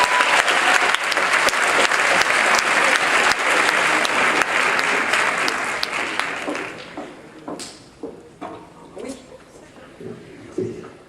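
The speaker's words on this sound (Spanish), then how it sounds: "Manon Funes, un aplauso para ella." Audience applause at a 2018 graduation ceremony, dense sustained clapping for about six seconds that thins into scattered claps, with talk heard as it fades.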